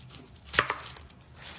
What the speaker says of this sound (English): Next, cut your onions in half.